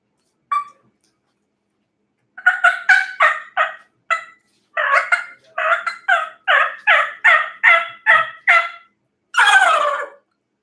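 A person imitates a wild turkey gobble with their mouth: a lone call, a pause, then a rapid run of gobbling bursts and a final drawn-out warble.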